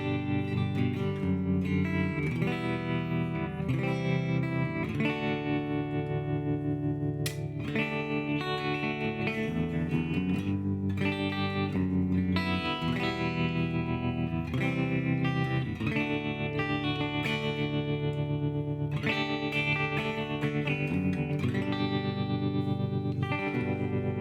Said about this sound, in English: Next we have vintage tremolo and reverb.